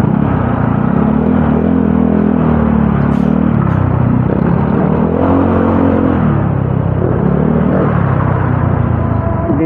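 Loud, dense road traffic in a jammed town near a bridge closure in Tanza, Cavite: a continuous close rumble of car and motorcycle engines with rising revs as vehicles pass.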